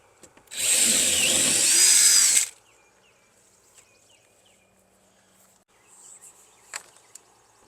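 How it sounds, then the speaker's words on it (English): A power drill bores a hole beside electrical conduit while heat pump wiring is run from the panel. One loud, close whine of about two seconds stops abruptly, followed by faint handling clicks. "we're going to follow the same conduits and drill us a hole"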